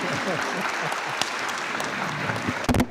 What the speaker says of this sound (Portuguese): eu vou pedir uma salva de palmas para a aniversariante de hoje